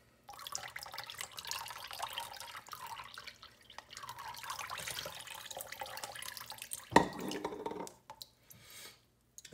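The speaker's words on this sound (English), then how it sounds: "so this moss right here, you want to saturate it because it's so greatly ventilated, it will dry out" Water poured over sphagnum moss around a Phalaenopsis orchid, a steady close trickle and splash that runs for several seconds, swells into a sharper splash near the end, then stops, with no talking.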